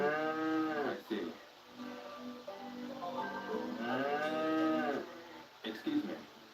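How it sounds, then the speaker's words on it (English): Cows mooing in a video game village: several long, drawn-out moos that rise and fall and repeat over a few seconds, fairly close and prominent. "Your cows are kind of loud."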